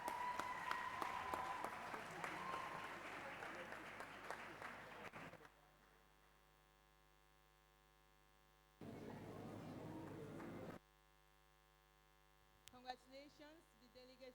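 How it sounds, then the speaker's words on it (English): Delegates clapping after a draft resolution passes at a university model United Nations closing plenary, a dense burst of applause over mains hum that stops abruptly, returns briefly, then gives way to speech. "You may clap."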